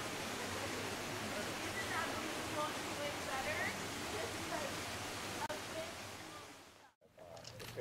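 Steady broadband rush of a river flowing beside a mountain campsite in Owens Valley, loud and continuous, cutting off abruptly near the end.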